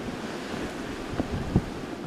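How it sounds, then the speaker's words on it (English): Hurricane-driven ocean surf and strong wind on the Hawaii coast, a steady rushing roar broken by a couple of short thumping gusts against the microphone. "I just like seeing the winds and, you know, and blowing, and the waves are just amazing"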